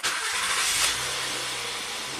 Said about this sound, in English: please start the engine.